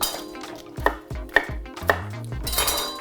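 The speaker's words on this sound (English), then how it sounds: "Turn the heat off, put the lid on until my bean cakes are ready." Metal clanks and knocks from a cooking pot on the stove, with a few sharp ringing taps close by, fitting a lid being set on and settled over the pot.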